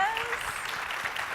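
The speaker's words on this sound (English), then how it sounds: "Round of applause." A brief round of applause from an audience at a talk on equity and crowdfunding, moderate and steady, with a voice over it.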